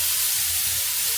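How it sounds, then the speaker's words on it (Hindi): Tadka tempering hitting hot oil, a loud, dense sizzle that hisses steadily up close for a brief moment. "तड़का डालती हूँ और भाग जाती हूँ।"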